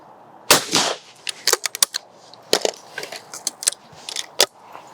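A Browning shotgun fires at clay targets outdoors, one loud sharp blast early followed by a rapid cluster of crisp cracks and impacts, fairly close, with no talking.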